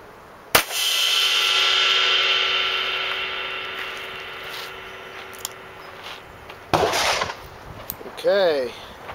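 A .357 Magnum Hornady Critical Defense round is fired at a Zildjian K Dark 22-inch ride cymbal: one sharp, loud shot, then a long shimmering cymbal wash that slowly decays, followed later by a few brief knocks and clatters.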